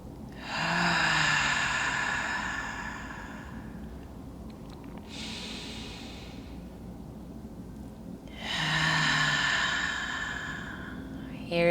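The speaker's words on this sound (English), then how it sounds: "Five more deep breaths all together here." A group doing deep breathing together in a gentle mobility session, with two long, loud breathy exhales near the start and end and a softer hiss of breath between them.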